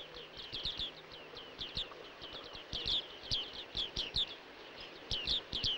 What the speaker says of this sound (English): the bearded tit families have flocked together